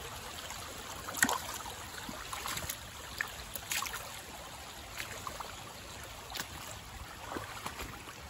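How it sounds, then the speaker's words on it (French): Feet wading through a shallow summer river stir up soft splashes and trickles, faint and close, with a few sharper sloshes standing out over a constant light wash of moving water and no speech. "C'est vraiment agréable de marcher comme ça dans une rivière en plein été."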